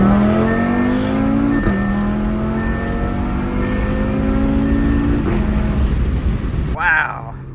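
An Audi TTRS with an IE downpipe exhaust revs loud and close, its engine note climbing, dropping and climbing again through several pulls before cutting off, while people talk over it.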